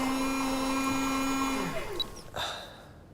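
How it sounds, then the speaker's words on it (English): A modified espresso coffee machine hums and whirs steadily with a sustained tone for nearly two seconds, then the drone cuts off and a few short clicks and a hiss follow. "Tuning the coffee machine. I've modified it to make an espresso in"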